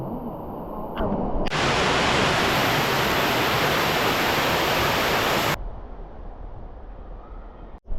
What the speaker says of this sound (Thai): สิบชั้นนะน้ำตกเนี้ย เราอยู่แค่ชั้นแรกเองนะ